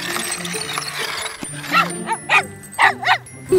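A cartoon dog barks several times in quick succession, in short, bright yips over a light animated soundtrack, with the barks coming after a quieter stretch of background sound.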